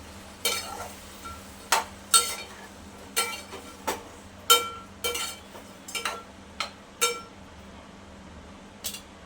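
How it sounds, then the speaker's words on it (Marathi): A spoon stirs whisked yogurt into partly cooked chicken gravy in a pot, giving a run of sharp scraping and clinking strokes in an irregular rhythm over a low steady hum, close and fairly quiet. "आता आपण ह्याच्यामध्ये फेटून घेतलेलं दही घालणार आहोत मिक्स करायचं"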